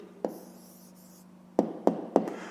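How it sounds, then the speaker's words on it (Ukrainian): A hand writes down a maths answer on paper: faint scratching, then four distinct taps or knocks, one early and three in quick succession near the end, close up with no talking. "Ну, а тепер записуємо відповідь. Пишемо тоді відповідь."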